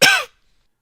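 A single short, harsh cough burst, close and loud, cutting off abruptly into silence.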